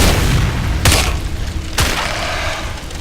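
Bombs exploding in a castle-level video game, two heavy booming blasts about a second apart over a dense rumbling background.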